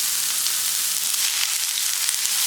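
A large onion fries in hot oil with a continuous, close, bright hiss of sizzling that stays even throughout, with no talking.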